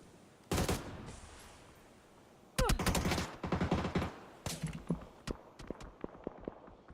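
Grenades go off in a PUBG esports match, heard as heavy booming blasts followed by rapid gunfire bursts and scattered shots that thin out, with no commentary over them.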